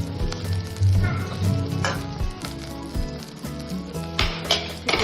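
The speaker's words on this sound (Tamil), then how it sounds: "இந்த மாதிரி எண்ணெயில் எல்லாமே ஒரு ஈவனாக ரோஸ்ட் ஆகிற மாதிரி வச்சுக்கிட்டு" Idli pieces roast evenly in oil in a pan, giving a busy, fairly loud sizzle full of crackles and pops, with occasional clinks of a utensil, and no one talking.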